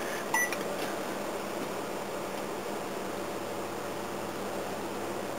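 A microwave oven hums steadily with a wire-stuffed glass cologne bottle and a light globe inside, a brief clicking beep at the start and then an even, continuous drone.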